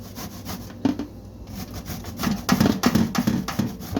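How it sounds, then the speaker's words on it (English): Zucchini is grated on a hand grater in uneven rasping, scraping strokes, close and moderately loud, gaining pace and intensity toward the end. "Now we're gonna grate our zucchini. You grate all your zucchini down just like that."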